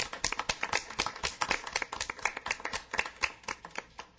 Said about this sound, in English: we give them a round of applause for the wonderful work they did